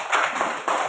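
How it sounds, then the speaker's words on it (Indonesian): A class of young students clapping for a classmate named Ezio, a short burst of dense, close applause from a small group lasting under a second. "tepuk tangan buat Ezio"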